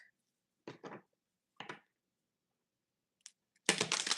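A few short papery flicks of tarot cards separated by silence, then a louder riffling burst as the deck is shuffled close by.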